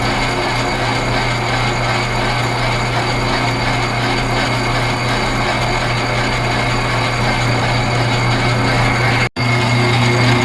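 An old drill press running eccentrically, a steady droning motor hum with a persistent rhythmic wobble, loud and close, broken only by a brief dropout near the end.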